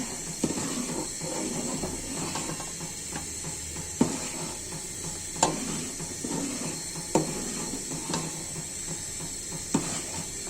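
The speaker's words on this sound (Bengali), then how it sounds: "নাড়াচাড়া করে দিচ্ছি" Masoor lentils with three kinds of vegetables are stirred in a pan. A spoon scrapes against the metal in steady strokes, with sharper clinks every second or so over a soft sizzling hiss. No one speaks.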